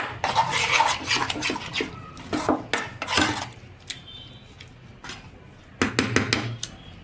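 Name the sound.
whisking semolina batter in bowl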